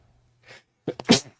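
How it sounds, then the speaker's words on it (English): A single sharp sneeze bursts out after a soft intake of breath, close and loud in an otherwise quiet room. "Oh, that sneeze snuck up on me."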